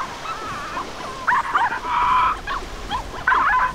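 A dog in the video game The Cave gives a string of short, high yips and whimpering barks in several close bursts over a low background hum, with no talking.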